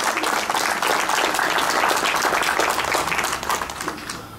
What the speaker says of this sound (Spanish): Para el amigo Jimmy Kiri, por favor, el aplauso